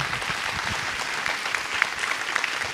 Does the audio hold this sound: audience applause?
yes